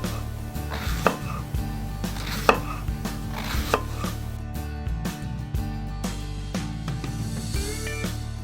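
A knife chopping cabbage very thin on a cutting board, a fast irregular run of sharp taps and thuds close up, with no talk.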